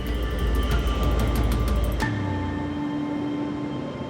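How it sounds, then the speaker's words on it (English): A train rumbles into platform 10 at London Paddington station with a steady mechanical drone and metallic hum, then the heavy noise cuts away to a quieter, lingering hum. "the timetable train pulls safely into platform 10"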